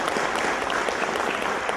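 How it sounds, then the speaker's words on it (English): An audience at an entrepreneurship development program event claps steadily in dense, continuous applause that holds at an even level for the whole stretch, with no voices breaking through. "Please give him a big round of applause."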